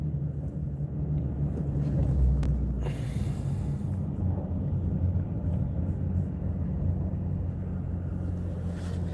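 A Shelby GT350 idles with a deep, steady low rumble throughout, a brief brighter surge partway through, no one speaking.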